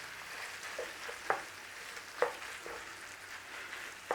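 Yellow mustard is stirred into a meat sauce frying for coney dog topping, a soft sizzle with a few sharp spoon scrapes against the pan bottom, quiet and close.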